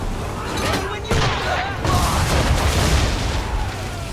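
Cannon volley from a sailing ship in Assassin's Creed III, a series of heavy booms and rumbling blasts over wind and sea noise, loud and close, with a shouted voice in the battle mix.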